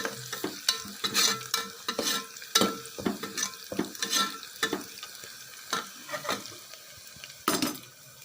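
Onions sautéing in hot oil in a pan while being stirred, with a steady soft sizzle broken by repeated scraping strokes of a spoon against the pan, close and fairly quiet.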